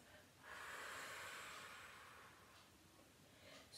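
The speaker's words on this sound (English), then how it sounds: "The last one, we're going to breathe out through the mouth." A person exhales audibly through the mouth during a spring yoga practice, a soft, breathy rush of air lasting a couple of seconds, quiet and close with faint room hiss.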